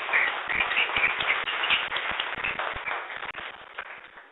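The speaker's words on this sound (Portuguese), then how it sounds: "Palmas pro Arthur." Students in a programming class clap for a classmate, a burst of scattered, uneven hand claps from a small group, fairly close and fading slightly toward the end.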